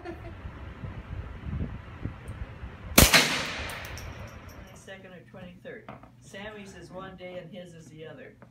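A gun fired on an Iowa farm: one sharp, loud crack midway with a brief ringing decay, after quiet background murmur, followed by people talking excitedly.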